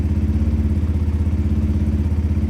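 A 2003 Kawasaki ER5 motorcycle idles on choke, close and steady, with an even, rapid, pulsing low-pitched thrum and no talk over it.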